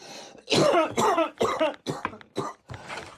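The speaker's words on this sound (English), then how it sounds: "When he stops coughing." A man coughs hard several times in quick succession, harsh and close, with short breaths between the bursts.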